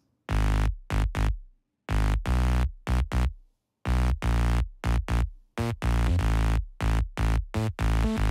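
A bright, buzzy synth chord layering saw and sine waves with a hissy white-noise layer, played in short rhythmic stabs with gaps of silence between groups of hits.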